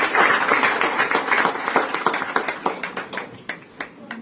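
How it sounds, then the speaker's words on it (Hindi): An audience claps at a hospital event, a burst of many hands that starts dense and loud, then thins into a few scattered, distinct claps toward the end. "इनके लिए एक स्पेशल तालियां"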